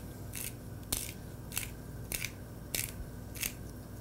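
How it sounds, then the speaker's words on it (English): A pepper grinder is turned in a quiet room, producing six evenly spaced short gritty crunching bursts, close and fairly soft, separated by brief pauses. "We got the pepper grinder"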